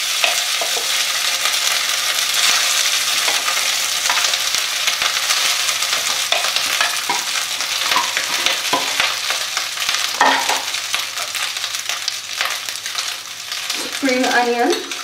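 Cooked rice is stir-fried with browned garlic, a loud, dense sizzle close by, with frequent scraping and tossing of a spatula against the pan. A brief clatter comes near the end.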